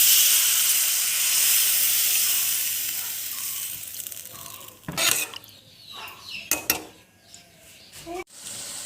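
Paneer masala in a pan hisses loudly as a splash of water hits the hot spices, the steam fading over several seconds before scattered scrapes and clinks of stirring.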